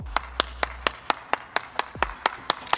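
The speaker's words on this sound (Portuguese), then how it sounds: "palmas para a Motorola" About eleven crisp single hand claps ring out one at a time at a steady, even pace, close and alone, with a couple of low thumps underneath.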